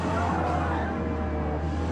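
Hard braking with skidding tires on a McLaren 720S in the Forza Motorsport racing game, a steady loud engine roar and tire scrub running continuously for two seconds with no talk.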